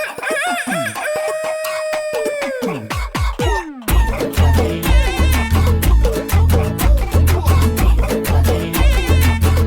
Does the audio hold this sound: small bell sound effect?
no